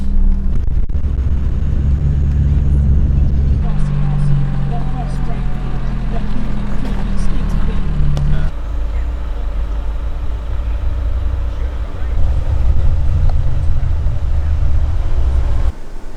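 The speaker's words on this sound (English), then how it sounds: "Bit of low range driving." A 4x4 vehicle crawls in low range along a valley track near the Styx River, its engine a loud, close, steady low rumble with a shift in tone partway through.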